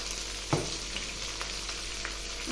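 Spices in a tempering for gongura dal fry in hot oil with a steady crackling sizzle, broken by a few sharp pops and a stirring scrape, close and alone.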